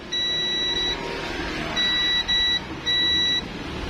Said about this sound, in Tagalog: may buzzer yan